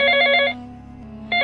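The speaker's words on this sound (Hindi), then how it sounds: "अरविंद के फोन पर कंपनी से कॉल था" Incoming call ringing on a phone, bright electronic trilling ring in two bursts with a short gap, close and loud with no talking.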